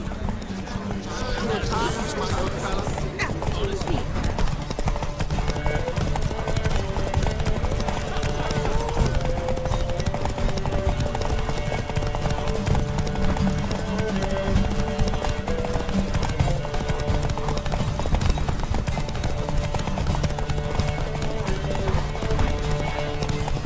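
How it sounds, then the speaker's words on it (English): Hooves clip-clop rapidly and steadily as a horse gallops in a race in The Witcher 3, with game music and a brief whinny early on, the pounding continuing loud and close throughout. "Competitors, saddle up! On 3! 1, 2, 3! Off you go! Run, Roach."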